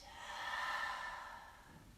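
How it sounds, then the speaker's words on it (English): A single slow, deep breath during a yoga session, an airy rush of air that swells and fades over about two seconds, soft and close with no speech. "Take one more breath in and out."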